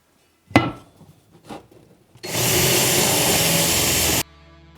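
A power tool drives a lag screw into a single wall stud, a steady loud whir lasting about two seconds, preceded by a couple of sharp knocks and handling clunks.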